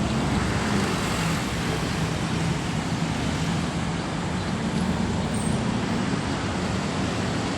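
Dense road traffic with many vehicles rolls past in a steady, unbroken wash of engine and tire noise, moderately loud and constant, with no voices.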